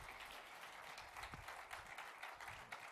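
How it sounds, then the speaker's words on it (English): An audience at an investor session applauds, a dense, steady wash of many hands clapping that sounds faint and somewhat distant, with no talk over it. "You guys are clapping."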